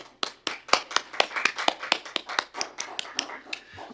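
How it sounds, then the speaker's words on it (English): Scattered applause from a small group at a city council workshop, distinct individual claps in an uneven rhythm for about four seconds, close and fairly sparse rather than a full roar. "A little round of applause."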